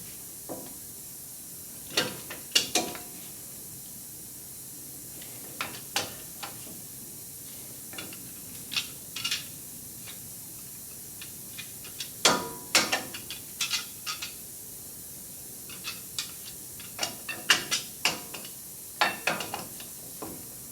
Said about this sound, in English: I'm going to use this channel lock to retract the caliper pistons